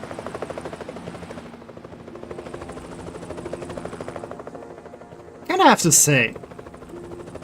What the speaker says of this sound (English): a helicopter should land.